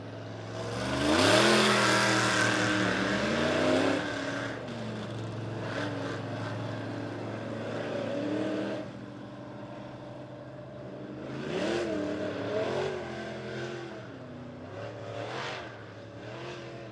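Race cars on hot laps at Monett Motor Speedway, engines roaring loudly as they pass close by, then fading and returning in a second pass of revving and acceleration, no talking.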